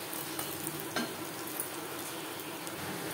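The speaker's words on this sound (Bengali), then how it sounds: "বড়া ভাজবো, যেহেতু আমি বড় সাইজের তৈরি করছি, মিডিয়াম ফ্লেমে" Large bottle gourd leaf fritters frying in oil on a medium flame, a dense, steady crackling sizzle close by with a few small pops, no voices.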